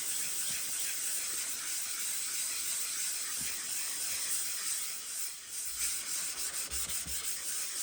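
The sole of an old Stanley No 4 smoothing plane is rubbed back and forth on P600 sandpaper, a soft, steady hissing scrape with gentle strokes, close and quiet.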